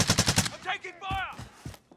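A rapid burst of automatic gunfire in Call of Duty Warzone, five or six sharp shots in quick succession at the start, followed by fainter game sounds and a brief voice.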